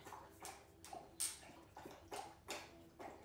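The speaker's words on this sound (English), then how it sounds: "There's my dog drinking water again" A dog laps drinking water in the background, a steady run of soft wet slurps roughly every third of a second, faint and close, with no talking.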